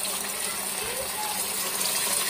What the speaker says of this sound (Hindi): मैंने 1 गिलास पानी ऐड किया है इसमें